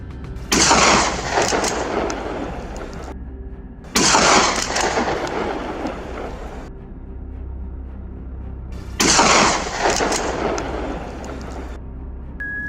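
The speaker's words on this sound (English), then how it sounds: "I held the gun steady, calmly aimed, and pulled the trigger" A hunting rifle fires at wild boar from high, open hills: three loud, separate blasts, each followed by a long, rolling echo that fades across the landscape, with no voices.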